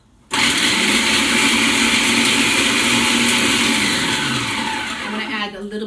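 Kitchen blender starts abruptly and runs loud and continuous for several seconds, a whirring motor grind that eases slightly near the end, with no one talking.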